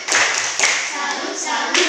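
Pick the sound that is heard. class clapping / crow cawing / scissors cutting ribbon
class clapping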